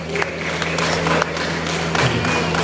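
Audience applause at a Jind stage program: steady clapping from a crowd over a low electrical hum, with a few sharper slaps standing out across the roughly three seconds.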